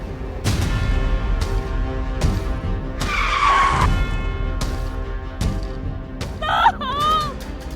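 A car accelerates hard under a loud, steady engine roar, and its tires squeal in a shrill skid midway and again near the end, with a few sharp knocks along the way.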